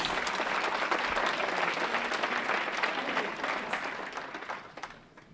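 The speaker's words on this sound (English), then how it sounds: "Give her a round of applause." An audience applauds at a power symposium in Las Vegas: steady, dense clapping from a crowd fills the room for about five seconds before tapering off at the end.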